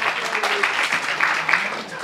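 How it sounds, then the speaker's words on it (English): An audience applauds women being honored at a gathering, a steady, dense patter of many hands clapping at moderate volume throughout. "give a round of applause for all the women"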